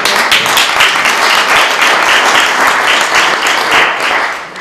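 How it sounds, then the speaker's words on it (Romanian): Loud, dense applause from an audience at the closing of a winter customs and traditions festival in Sighetu Marmației, Romania, with rapid clapping sustained evenly throughout. "eu cred că merită aplauze"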